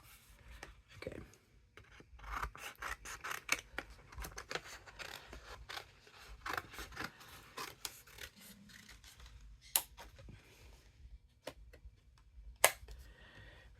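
Scissors cut through craft material for an ice cream cone from a scoop-and-sprinkles craft kit, with repeated close snips and rasping scrapes in an uneven rhythm and no talking.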